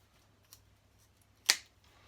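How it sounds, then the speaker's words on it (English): Scissors snipping an old elastic strap in half in a quiet room: a faint click, then one sharp, close cut about a second later. "So I'm just going to take a pair of scissors,"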